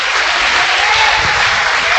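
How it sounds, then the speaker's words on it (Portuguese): A church congregation applauding in praise during a Portuguese-language service, loud, dense and sustained clapping from many people filling the whole space without a break. "Vamos aplaudir o nome do Senhor."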